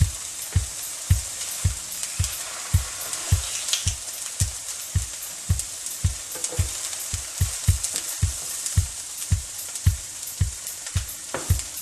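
Slices of Indian cheese or tofu fry in a pan with a steady high hiss, punctuated by regular low thuds roughly every half second throughout, with no voices.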